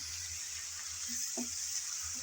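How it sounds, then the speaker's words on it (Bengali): Radish sizzles steadily in a pan while it is stirred, giving a continuous hissing fry with a few faint scrapes and knocks from the stirring. "মূলাটা দিয়ে এখন নেড়ে চেড়ে মিশিয়ে নেব।"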